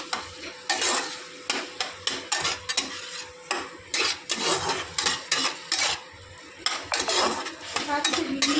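Masala spices being stir-fried in a pan, with repeated scraping and clattering strokes of a spoon against the metal over a steady sizzle, loud and close.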